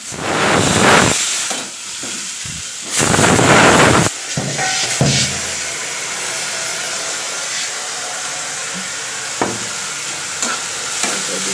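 A pressure cooker whistles while cooking bitter gourd, letting out two loud, steamy hissing bursts close by, followed by quieter kitchen clatter and faint sizzling.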